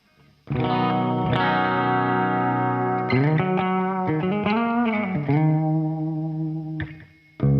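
Electric guitar through a CE-1 style chorus pedal with a shimmering, warbling effect, strummed chords then a melodic run, loud and alone with a touch of distortion.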